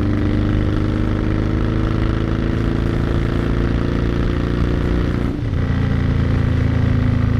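A Victory Vegas cruiser motorcycle engine drones steadily at cruising speed, loud and close, with a brief dip and shift in pitch as it changes gear.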